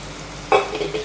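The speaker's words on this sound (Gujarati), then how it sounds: "આપણે ડુંગળીની એમાં નાખી દઈએ એનો વઘાર કરી નાખીએ" Chopped onion hitting hot oil seasoned with spices and asafoetida while tempering khichdi in a clay pot: a sudden loud sizzle bursts in, then crackles and fades slightly.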